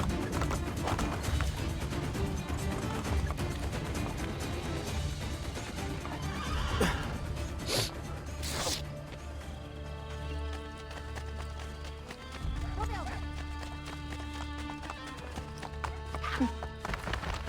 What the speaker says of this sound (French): j'ai un cheval, d'accord, de 500 kg. Et lancer à pleine vitesse, tu l'arrêtes pas.